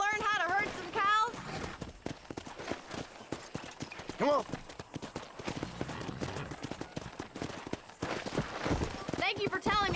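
Horse hooves clip-clopping at a quick gallop in the Red Dead Redemption video game, steady and close, with brief whinnies and someone speaking over the hoofbeats.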